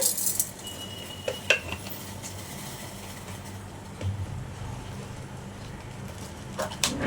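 Whole cumin seeds and other spices dry-roasting in a dry kadai while being stirred, producing sporadic metallic clinks and scrapes of a spoon against the pan over a quiet background.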